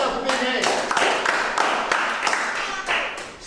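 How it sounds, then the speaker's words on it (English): A small live audience claps for the Brooklyn History Club, a brief burst of scattered, overlapping handclaps close to the microphone that stays fairly steady, with faint voices underneath. "Give yourself a big hand."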